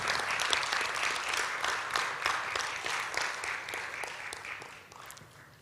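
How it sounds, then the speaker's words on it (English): An audience at a 2021 Indonesia–Latin America and Caribbean business forum applauds the signing of agreements, a dense, even wash of clapping that holds steady and then tapers toward the end. "please give a big round of applause for our agreements"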